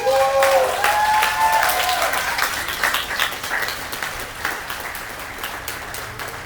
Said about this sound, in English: Turn and face all the people who are here to celebrate you and give them a round of applause